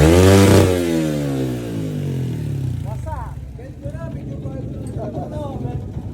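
A Sniper 150 motorcycle fitted with a 61mm piston and MTRT block revs loudly at first, then drops to a steady rumbling idle close by. Faint chirping sounds over the engine.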